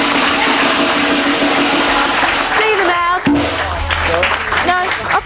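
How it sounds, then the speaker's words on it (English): A studio audience applauds the contestants on a crossword game show, a broad wash of clapping that fades as a voice speaks over it and music cues in. "So let's give them a big round of applause."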